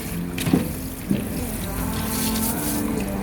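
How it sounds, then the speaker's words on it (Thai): Tap water runs steadily into a sink while hands are washed, a continuous close splashing flow with a couple of brief knocks near the start. "ล้างมือเอาขึ้นก่อนเดี๋ยวล้างมือกัน อ่ะล้างเลย"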